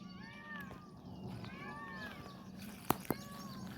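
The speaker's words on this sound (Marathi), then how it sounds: "सकाळी सकाळी मोर ओरडतात आणि मोरांचा आवाज" In the morning, peacocks call from dense trees in a series of faint, distant, wailing cries. Soft background ambience runs underneath, broken near the end by two sharp, close clicks.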